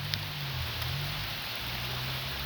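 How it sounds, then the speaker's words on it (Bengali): Hailstones the size of lizard eggs fall in a sudden burst, making a steady, dense hiss of impacts that continues evenly throughout with a low background hum and no voices. "টিকটিকির ডিমের মতো বরফ গুলো পড়তেছে"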